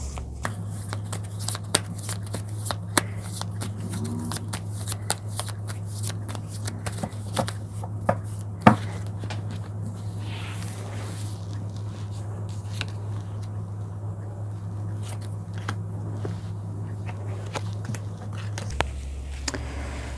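A deck of tarot cards is shuffled and drawn in a long, continuous run of soft riffling and shuffling, with occasional sharp card snaps and taps. The sound is close and steady, with no speech.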